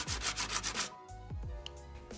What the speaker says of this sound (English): After the epoxy dried, I just used some sandpaper to sand it flat where the rest of the surface is